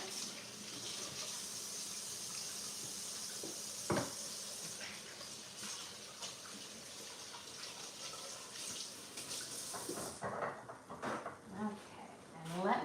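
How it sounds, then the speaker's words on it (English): Water runs steadily from a sink tap while hands are washed in a home kitchen, a continuous close hiss that stops near the end and gives way to a few light clatters and handling noises. "I'm gonna go wash my hands."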